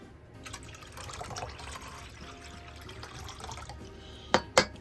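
Water runs and splashes into a pot at close range for coffee at an outdoor fire pit, followed by two sharp clinks of glass or metal near the end.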